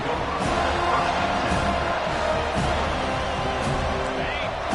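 A large crowd at a college football game between UNC and FSU roars in a steady, dense wash of cheering that never lets up, with faint commentary mixed in underneath.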